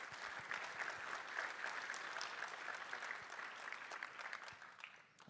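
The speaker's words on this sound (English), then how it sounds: "Another round of applause for demoing this stuff." An audience at a tech conference session applauds, giving dense, steady clapping that holds for several seconds before tapering off at the end.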